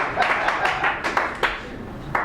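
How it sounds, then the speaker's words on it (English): A small audience claps in scattered, uneven bursts at a live poetry event, with a few sharper individual claps standing out and faint voices underneath. "That means applause. That means make the clapping sound."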